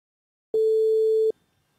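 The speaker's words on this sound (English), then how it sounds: "I do apologize, that's my phone." A mobile phone sounds a single steady electronic tone lasting under a second, clean and loud, with silence before and after.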